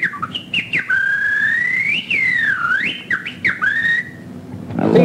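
Someone whistles a sliding, warbling melody with swoops up and down, loud and close, ending with a rustling noise.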